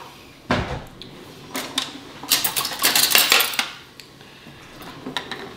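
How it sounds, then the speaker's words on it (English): A metal spoon is grabbed from among pots and cutlery in a kitchen while making Instant Pot chili, giving a few sharp clinks followed by a busy burst of rattling metal, then a last light clink. "I'm going to just grab a spoon now"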